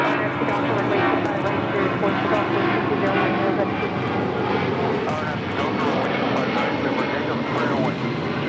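FedEx flight 9090 passes near LAX with a sustained jet engine rumble, while someone talks over it the whole time.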